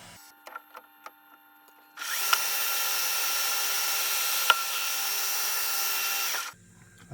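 Colchester Chipmaster lathe taking a cutting pass on metal, a loud steady whine and hiss lasting several seconds with one brief tick midway, preceded and followed by faint clicks and machine idle.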